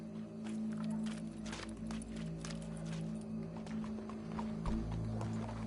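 Horse hooves clip-clop steadily in Red Dead Redemption 2, the walking beat running under a constant low hum and ambient game noise throughout.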